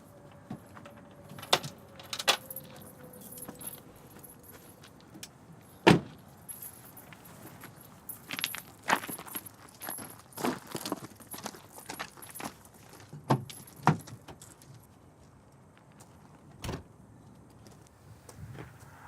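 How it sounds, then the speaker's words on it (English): Keys jangle and rattle inside a car during a failed attempt to start it, with scattered sharp clicks and knocks at close range and no talking. "Can't start my car on the biggest day of my whole life"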